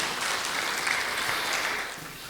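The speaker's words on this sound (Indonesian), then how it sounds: "Boleh tepuk tangan yang lebih keras buat Tuhan." Applause from a church congregation, a soft, steady patter of many hands that holds for a couple of seconds and then fades slightly.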